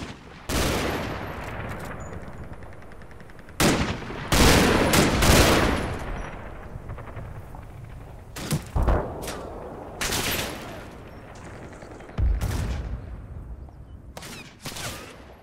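An infantry squad fires in the wargame Combat Mission: bursts of rifle and machine-gun fire crackle in irregular volleys, with sharp louder cracks and booms standing out against a steady background of distant shooting.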